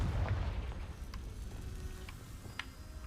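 Spell explosions in Hogwarts Legacy: a dense, rumbling blast with a few sharp magical pops and crackles over a continuous low roar, loud and close, with no talk.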